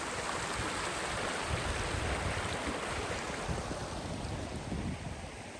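Broadband rushing water from a stream near waterfalls on a forest hike, a constant even wash with no talk over it.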